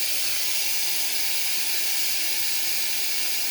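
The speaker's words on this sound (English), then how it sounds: "Keep it away from yourself. Steam is dangerous." Steam hisses from the valve of a pressure cooker cooking vegetable biryani, a loud, continuous, even rush of air that holds steady throughout with no voices.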